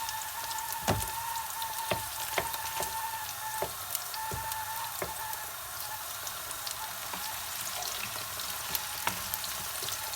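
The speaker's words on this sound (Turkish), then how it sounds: "Bir miktar salçası da kavrulsun." Tomato paste frying in olive oil for a leek dish, giving a continuous crackling sizzle dotted with sharp pops and spatters at irregular intervals.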